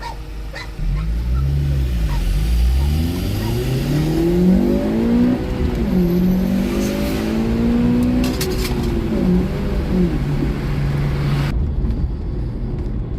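Engine of a 2009 Honda Civic Type R FN2 revving hard from inside the car, rising in several sweeping pulls into VTEC, loud and sustained before cutting off abruptly at the end.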